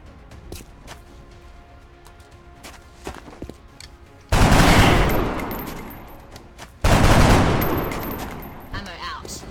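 Two loud, sustained bursts of heavy gunfire from the video game XCOM: Art of War erupt in a firefight, each rolling on for a couple of seconds after a quieter stretch of scattered clicks and small sounds.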